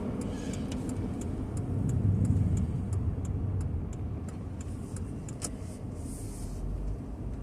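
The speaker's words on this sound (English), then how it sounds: "This traffic's horrible this morning." Steady road traffic rumbles nearby, a continuous low wash of passing cars swelling slightly in the middle, with faint ticking clicks on top.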